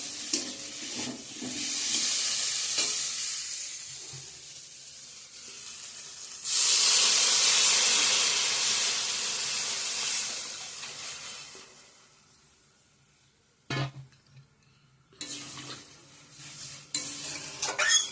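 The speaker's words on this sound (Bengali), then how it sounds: "এখন জল অ্যাড করে দিয়ে দেবো।" Potato and radish masala frying in a pan as water is poured in, giving a loud hissing sizzle that swells midway, with stirring and utensil clatter, then fading to quieter bubbling and occasional pan knocks.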